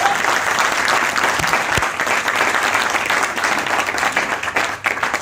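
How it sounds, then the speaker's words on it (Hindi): Steady, full applause from an audience at a multi-level marketing business seminar, a dense continuous clapping roar holding at even loudness throughout with no speech over it. "सर के लिए तालियां हो जाए पर।"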